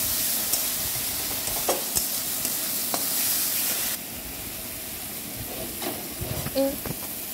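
Turmeric powder, salt and spices sauté in hot oil for a koi fish curry, giving a steady sizzling hiss with occasional stirring scrapes and clicks, no talk.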